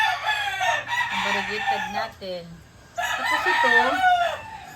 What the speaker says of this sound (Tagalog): pasensya sa ingay na ano ha, ng manok